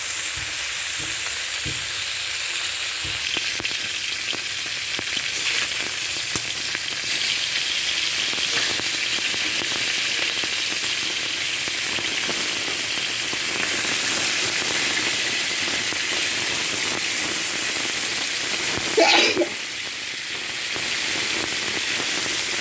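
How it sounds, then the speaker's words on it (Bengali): Live magur catfish fry in oil in a pan, producing a loud, continuous sizzle with crackling spatter that runs steadily throughout, with a brief clatter near the end. "মাছগুলো ভালোভাবে ভেজে নিতে হবে, তবে খুব বেশি কড়া না, মাঝারিভাবে ভেজে নিতে হবে এই মাছগুলো।"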